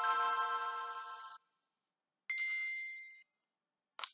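A game console starts up with a chime: a ringing electronic tone, then a second shorter tone after a pause, and a brief blip at the end, all clean and isolated with no talking.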